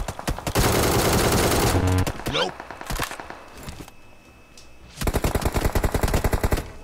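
Rapid automatic fire from an ACE32 rifle in a shooting video game comes in two long loud bursts with scattered single shots between them, while a player speaks briefly.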